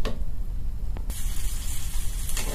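A raw mango sweet pickle mixture sizzles as it is roasted and stirred in a pan, a steady close hiss broken by a few quick scraping clicks, with no talking.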